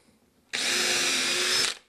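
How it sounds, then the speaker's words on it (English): A power drill whirs steadily for well over a second as it bores through material during a live home remodeling seminar. The sound is close and loud, with no talking over it. "I'll drill through."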